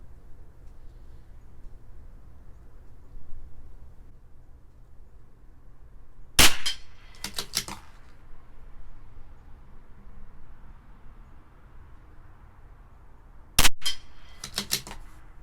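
A CZ 457 LRP rifle fires Lapua Pistol OSP rounds at 50 yards, two sharp cracks about seven seconds apart, each followed by clacks and rattles of the bolt, over a low steady outdoor rumble.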